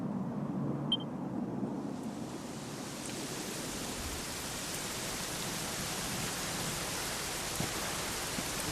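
Steady, hissing video game rainfall in Dragon Quest XI fills the scene, a dense wash of noise that swells in after a quieter start and continues evenly, fairly soft.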